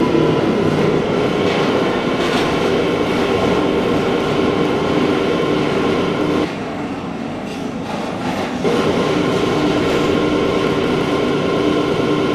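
An R179 C local subway train runs Brooklyn-bound toward West 4th Street, a steady loud rumble of wheels and car noise throughout, dipping briefly near the middle before the roar resumes.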